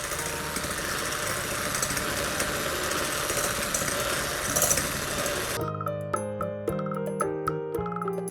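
An electric mixer beats royal icing for decorated Christmas cookies, a steady high whirring that runs continuously for several seconds and then cuts off abruptly, leaving quieter tonal sounds behind it.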